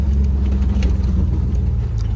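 An L67-swapped Toyota Hilux engine is given a little gas, a loud, steady low rumble and drone that holds close and continuous throughout.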